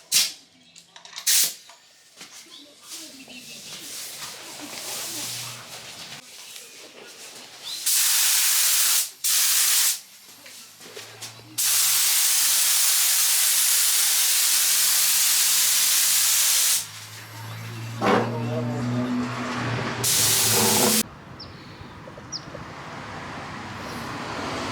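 A spray gun sprays primer onto a car bodykit in several bursts of broadband hiss, some brief and some lasting several seconds, up close and loud, with a few quiet voices and shop clatter in the gaps.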